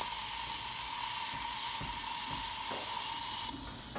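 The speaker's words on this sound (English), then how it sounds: "Alright, steam looking good." Steady loud hiss of steam from a Saeco Espresso Classico espresso machine, continuous for several seconds before dropping off sharply near the end.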